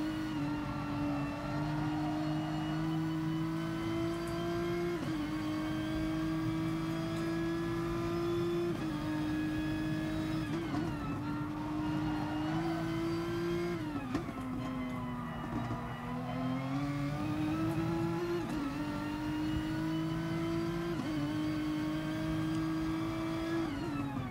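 Nissan GT-R GT3 race car engine in the Gran Turismo Sport game, droning loud and steady with repeated upshifts and small throttle lifts, running continuously without speech.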